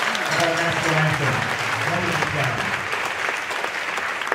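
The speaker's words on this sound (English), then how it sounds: "how about another round of applause for our vocal jazz ensemble" A high school spring concert audience applauds a vocal jazz ensemble after the national anthem, broad steady clapping that gradually eases, with some voices audible beneath it.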